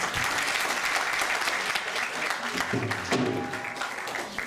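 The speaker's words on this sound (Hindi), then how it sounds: "जोरदार तालियां प्लीज" A crowd applauds loudly and steadily after a dance performance at a Republic Day celebration in a Hindu temple hall, with a few voices briefly audible near the end.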